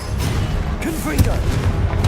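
A Confringo fire spell blast from Hogwarts Legacy bursts out with booming, explosive impacts over continuous battle noise, while a voice speaks briefly over the clash.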